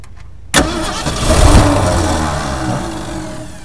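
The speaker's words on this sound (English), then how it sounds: "So let's just get cranking and look for fuel" A 1968 Ford Galaxie engine cranks briefly and fires right up, swelling into a loud rough rev before settling into a steady, close, throaty idle.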